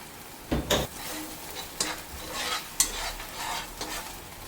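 Coastal-style mackerel masala fry sizzles in a pan after a splash of water. A soft, steady sizzle runs throughout, broken by several clinks and scrapes of a stirring spoon, with no voices.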